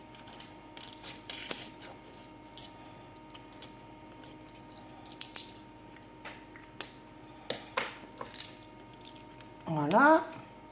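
Euro coins handled and dropped onto a surface, a series of faint scattered clinks and taps with one louder rattling jingle near the end.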